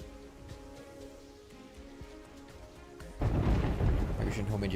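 Rain and a deep rumble of thunder from lightning in a video game, a quiet ambient bed that surges into a loud, dense crash of rain and thunder about two-thirds through, with faint sounds beneath.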